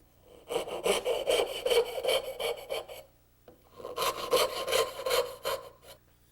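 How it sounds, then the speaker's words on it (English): A hand saw cuts down to a marked line in wooden boards for a joint, with two runs of brisk, rhythmic back-and-forth strokes separated by a short pause, close and clear. "Cut down to the line."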